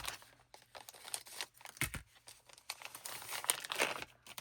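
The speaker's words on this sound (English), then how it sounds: "I'm going to need a scissors to get this one open." Crinkly plastic packaging is cut and pulled open with scissors, a steady run of close, quiet crackling and rustling.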